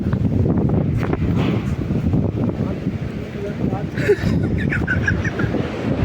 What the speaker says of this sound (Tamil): காற்று முரட்டடி